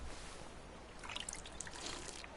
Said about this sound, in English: let's try drinking the water